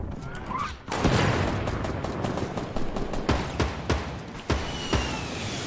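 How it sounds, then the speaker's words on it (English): Rocket fire and explosions in a Fortnite battle royale match, a loud booming blast followed by a rapid series of sharp cracks and bursts at close range, dense and chaotic with no voices. "Oh, that's a rocket. That's a freaking rocket."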